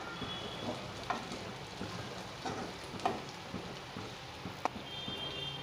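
Fried chicken being mixed in a pan, soft scraping and turning with a faint sizzle underneath, a few sharper knocks of the spoon against the pan, quiet and close.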